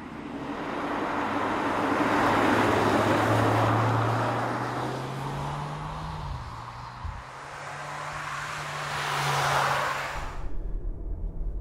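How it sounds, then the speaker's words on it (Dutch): An Audi Q3 Sportback on the move, heard from inside as a steady low engine drone and broad road and tyre roar, with the pitch shifting midway and the sound cutting off near the end. "onderweg dus in de Audi Q3 Sportback"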